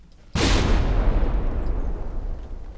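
A naval battle in the game From the Depths: ship guns fire a single heavy booming volley that rolls and decays slowly over a couple of seconds, loud and close, with no talk.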